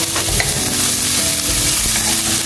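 A tablespoon of butter sizzles and fries loudly in a hot pan being stirred, a dense continuous crackle close by with faint scraping, no voices.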